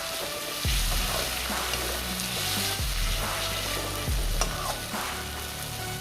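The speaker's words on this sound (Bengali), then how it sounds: "এটাকে আমরা আবার ফ্রাই করব যতক্ষণ না টমেটোটা গলে যাচ্ছে।" Tomatoes frying in a pan while being stirred, a continuous close sizzle broken by a few deliberate scraping strokes of the spoon, with no talking.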